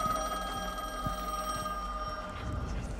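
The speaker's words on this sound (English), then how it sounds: "Phone's ringing." A phone rings in the horror adventure game The Medium, a steady electronic ringing tone sounding throughout over a low rumbling ambience with soft footsteps-like thuds.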